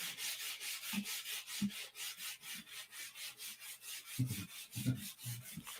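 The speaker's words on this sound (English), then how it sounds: "I'm just polishing my bit." Rhythmic rubbing strokes of polishing, a steady back-and-forth swish repeating about once a second, close and moderately loud, with a few heavier thumps near the end.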